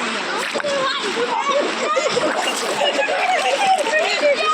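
Water splashes and sloshes steadily at close range as a person dunks in a clear river, talking over the continuous churning of the Khadawli river.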